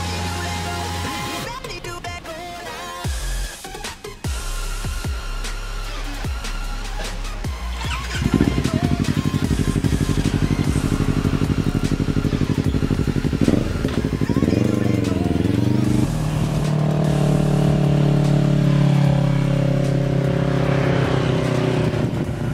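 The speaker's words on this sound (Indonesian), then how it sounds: "di sesi kali ini kita akan test ride dan mengetahui suara knalpot motor saya." Modified Yamaha R25 motorcycle with an aftermarket exhaust, first idling and blipping with uneven revs, then a louder sustained ride as the engine pulls and the pitch climbs and falls through gear changes, close and prominent.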